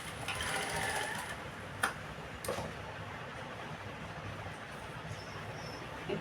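A sewing machine runs top-stitching on a blouse, a steady fine mechanical whir with a couple of sharp clicks, close and fairly quiet with no talk.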